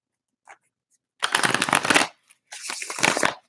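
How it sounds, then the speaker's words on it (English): Tarot cards being shuffled in two bursts: a short riffle of about a second, a brief pause, then a second riffle, close and crisp with no talking. "2 more shuffles here"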